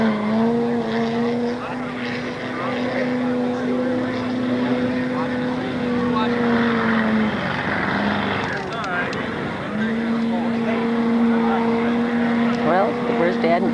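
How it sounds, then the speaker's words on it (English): Race vehicle motors drone at an off-road race, a steady sustained engine hum with a rising pitch through the middle, heard loud and continuous beneath someone talking. "I hear motors."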